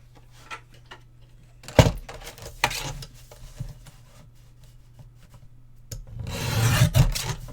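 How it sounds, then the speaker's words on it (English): Scored patterned paper being trimmed for a bird-themed mini album, with a few soft rubbing and scraping cuts that end in a louder, longer rasping pass, close up and without talk. "I've got a piece here. I can just trim off that."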